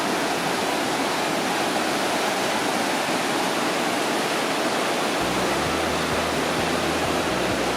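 Crystal-clear river water rushes through Vintgar Gorge in Slovenia, a steady, loud, dense hiss of flowing current that does not let up, with a low rumble joining toward the end.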